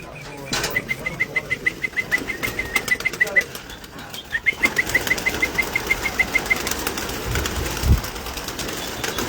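A flock of show pigeons bursts from a loft as they are released, wings clattering in rapid repeated flaps, with a brief lull before a second loud wave of flapping and some voices in the background.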